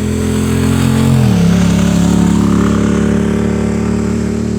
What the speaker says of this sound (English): and there's another loud car coming by right this time